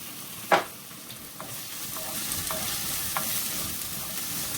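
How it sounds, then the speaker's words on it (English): Yam frying in a pan for crunchy yam balls, a steady soft sizzle running throughout with one sharp utensil knock near the start and a few faint clinks after, no talking. "So my yam is cooking while I'm doing the meat to go with it."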